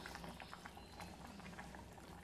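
Chettinad vathal mandi gravy with sun-dried vathal bubbles in a pot, giving rapid irregular pops and gurgles over a continuous low simmer, close and steady.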